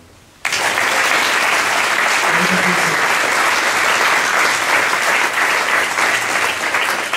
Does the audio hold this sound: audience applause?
yes